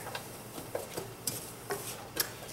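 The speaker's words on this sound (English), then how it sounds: "Now we're going to cook the sofrito for about 2 to 3 minutes in medium temperature." Sofrito cooks in a pan over medium heat, a soft crackling sizzle broken by several light scraping stirs and clinks of a utensil against the pan, close and quiet with no talking.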